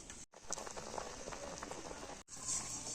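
Thick raw mango pulp bubbling and spattering steadily in a wok, a dense crackly simmer with two brief dropouts, close and moderately loud.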